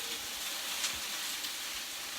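Potatoes sizzle on a hot plancha griddle set to 220 degrees, a steady close hiss with a few faint scrapes mixed in.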